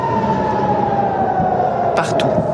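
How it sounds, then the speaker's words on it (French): Air raid sirens wail across a city in Israel during rocket attacks, a loud steady drawn-out tone with a slow falling pitch, heard under a voice. "Les sirènes se déclenchent."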